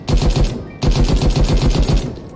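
Red LMG machine gun in the Krunker video game firing two loud, rapid bursts of closely spaced shots, with a brief gap between them.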